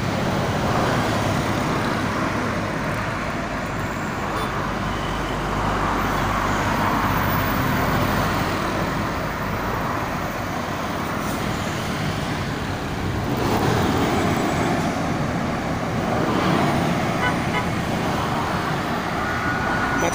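Heavy traffic crawls along a congested Jakarta toll road near the Karawang Timur gate, a dense continuous roar of engines and road noise heard from close by. Distinct horn blasts are hard to pick out in the steady wash.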